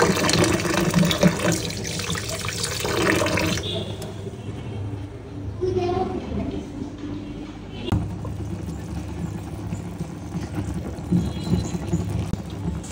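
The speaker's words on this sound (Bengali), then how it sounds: "পোলার চালটাকে সুন্দরভাবে ধুয়ে নেব" Polao rice being washed under running tap water in a kitchen sink, a continuous splashing rush that is loud for the first few seconds and then softer and more broken, with some background noise.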